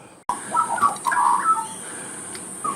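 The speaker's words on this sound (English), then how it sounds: "The magpie." Bird calls, likely a magpie, sound outdoors in a short run of chattering, warbling notes of moderate loudness over a steady background hiss, with no talking.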